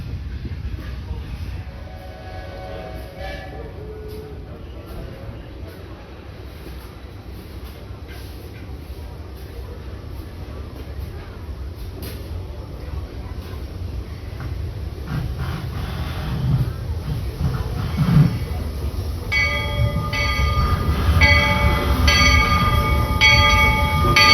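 A Walt Disney World Railroad steam train at the Magic Kingdom runs with a steady low rumble and clatter, growing louder toward the end, where bright bell-like tones ring out; faint voices come and go beneath it.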